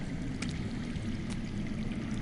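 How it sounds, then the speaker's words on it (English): Underground water rushes steadily in a video game, a continuous low, dense wash of flowing noise with faint higher splashy flickers, heard alone with no voices. "I hear water. From underground."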